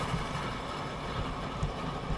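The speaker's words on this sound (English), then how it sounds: "Back to riding the train." A steam train rolls along in Transport Fever 2, giving a steady low rumble of wheels and engine with no pauses, moderately loud and continuous.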